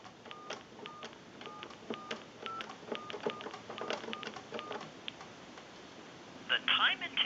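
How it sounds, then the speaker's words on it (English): A wooden crank wall telephone converted for modern service dials a time-and-temperature number, producing a quick series of short touch-tone beeps in an uneven rhythm, followed by a brief louder burst at the end. "and we'll dial that number"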